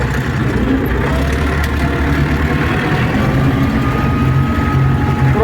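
A YUMZ tractor engine drones steadily while ploughing, a loud continuous mid-pitched rumble with no voices.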